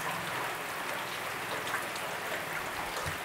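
Steady, dense rainfall in Macaíba, Brazil, hissing without a break, a constant wash of drops pattering on surfaces, fairly close and even throughout.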